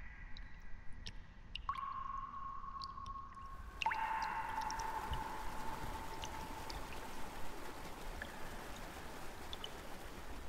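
Steady flowing water of an underground river in the video game Mind: Path to Thalamus, a continuous soft rushing wash with faint dripping and tonal ambient hums layered over it, no talking.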